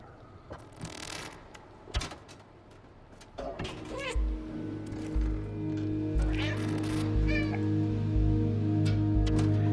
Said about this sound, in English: If you meow as well, it will light up and kind of show you where to go